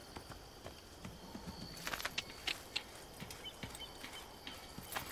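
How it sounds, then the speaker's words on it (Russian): Horse hooves clip-clop in Assassin's Creed, a run of light, fairly quiet hoofbeats over faint ambient background with a few sharper, brighter impacts near the middle. "Это, кажется, не моя лошадь."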